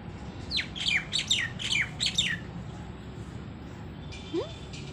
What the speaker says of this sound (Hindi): वो ये चिड़िया कहाँ से बोल रही है